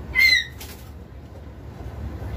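A pet myna bird, just released after having its tongue peeled, gives a brief flurry of wing flaps with a faint chirp near the start, then the sound falls away to quiet room noise.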